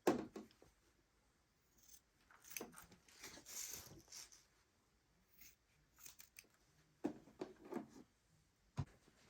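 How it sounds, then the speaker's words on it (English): Scissors snipping the fabric corners of a sewn patchwork pillow cover, scattered close, quiet cuts in short bursts with pauses between. "Also, what I like to do is cut the ends off on each edge here"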